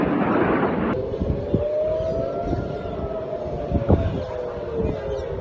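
Air raid sirens wailing over cities in Israel, a loud sustained rising-and-falling tone carrying across the area with a steady rumbling background, brief bumps and knocks nearby, no voices.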